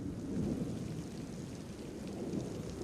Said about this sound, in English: And it's a thunderstorm.